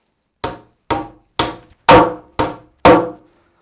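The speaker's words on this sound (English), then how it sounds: "how many blows it takes to knock a nail in" A hammer drives a 4-inch wire nail into pine softwood with six sharp, evenly spaced blows, each a loud close knock that rings briefly and then decays, with no voices.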